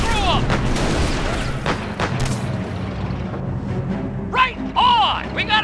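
Heavy gunfire and booming artillery in Company of Heroes during a Normandy mission at Saint-Lô, dense and loud throughout, with soldiers shouting over the battle.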